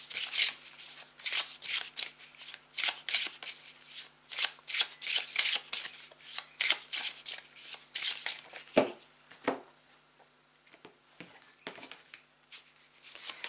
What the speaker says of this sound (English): now is the time to take a couple of deep breaths as I shuffle it